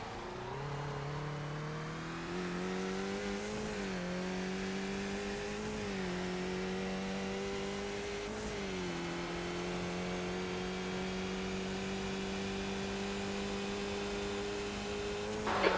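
A race car engine in a racing video game set at Long Beach drones steadily at high revs, its pitch dipping and rising through gear shifts and corners, loud and continuous with no talking.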